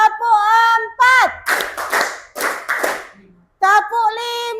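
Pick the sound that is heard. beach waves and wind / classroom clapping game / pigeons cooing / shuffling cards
classroom clapping game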